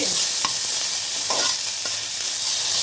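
Fenugreek leaves frying in oil for a methi chutney, a steady bright sizzle with a few scrapes and clinks of stirring, close and alone.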